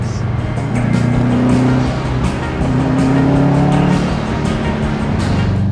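A Subaru Forester with an STI engine swap, six-speed manual and all-wheel drive, drones steadily while driving, its engine tone rising and holding in two long pulls, close and loud with road noise and no talk.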